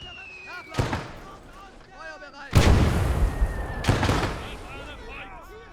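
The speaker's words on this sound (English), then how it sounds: "Our mortar team did start shooting." Heavy mortar and artillery blasts in a combat video game, three loud booming impacts with rumbling tails, the middle one the strongest, with a voice speaking faintly amid the battle noise.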